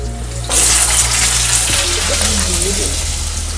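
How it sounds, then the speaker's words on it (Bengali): Potato pieces drop into hot oil already holding fried whole spices and a torn bay leaf. A loud, bright sizzle bursts in after a low hum and then settles into a continuous close crackle. "ফোড়নগুলো ভাজা হয়ে গেছে, এবার দিয়ে দিচ্ছি টুকরো করা আলু।"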